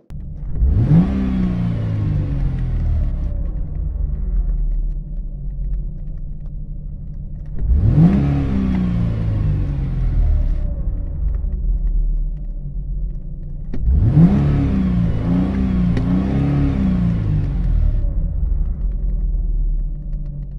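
A Nissan 350Z 3.5L V6 engine revs hard three times, each a sharp rising roar that holds high then falls back, loud and close with no talking.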